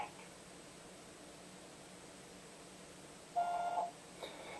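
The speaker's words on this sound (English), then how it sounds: "At the tone, please record your message." A voicemail system's recording tone: one clear, steady electronic beep of about half a second, following a stretch of quiet line hiss.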